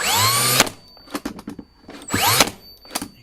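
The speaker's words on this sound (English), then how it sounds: "Let's see if we can fire at full depth directly into the Remu." A Bosch 16ga brad nailer firing at full depth into hard Rimu timber gives two loud motor whines, each ending in a sharp crack, with smaller clicks and knocks in between. No one speaks.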